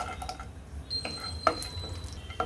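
Cashews and raisins sizzle gently in ghee in a nonstick pan, with soft steady crackle and a few clicks of stirring, quiet and close with no talk.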